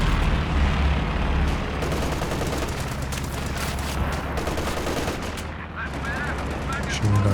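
Dense gunfire and machine-gun bursts from a Company of Heroes 2 battle, a loud continuous layered barrage of rapid shots and blasts running throughout with no pause.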